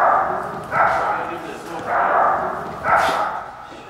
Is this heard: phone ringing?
no